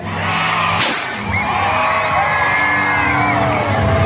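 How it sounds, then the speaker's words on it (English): Crowd at a Nanhua celebration shouting and cheering together, loud sustained whooping with a sharp bang near the start, likely a confetti streamer popping. "Let us cheer Nanhua on!"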